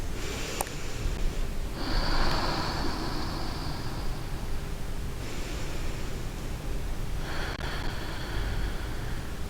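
Deep, steady breathing during a vinyasa yoga practice, slow airy inhales and exhales rising and falling in long waves, close and soft over a constant hiss.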